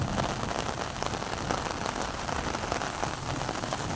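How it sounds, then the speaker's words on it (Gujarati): Heavy monsoon rain pours down on a flooded courtyard, a dense, steady close roar of drops pattering on surfaces with no break throughout. "સટાસટી બોલાવે છે વરસાદ."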